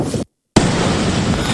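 A massive explosion seen from across a bay in news footage: a loud roaring blast that cuts out briefly and then resumes as a sustained, dense rumble.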